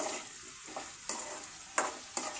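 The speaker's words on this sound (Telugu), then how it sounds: "బంగాళదుంప ముక్కలు కూడా వేసుకుంటున్నానండి ఒకసారి అయితే కలుపుకుందాము" Potato pieces frying in a pan are stirred, giving a steady close sizzle broken by three sharp scraping strokes of the spoon, with no talk.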